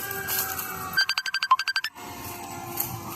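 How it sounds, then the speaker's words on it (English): A mobile phone ringtone rings in a quick run of about ten short electronic pulses at a cemetery cleanup site in the woods, loud and close against faint outdoor background, with no talking. "Sorry about getting phone calls."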